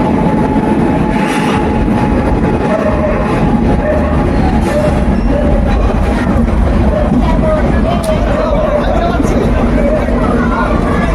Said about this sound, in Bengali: এই মাত্র জাস্ট ট্রেনটা বামনহাট থেকে নিউ জলপাইগুড়ি ঢুকছে